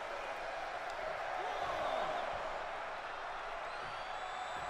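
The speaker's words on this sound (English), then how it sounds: "The crowd appreciating him." At WrestleMania X, a big arena audience keeps up a loud, continuous roar of cheers and applause for Bam Bam after he clears the ring, with a commentator's voice running underneath.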